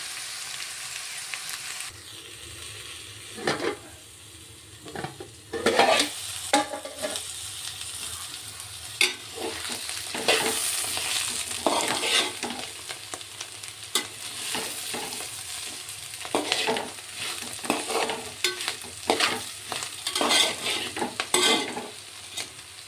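Broad bean pieces frying in a pan under a steady sizzle, with repeated scraping strokes as they are stirred at irregular intervals close by, no talking.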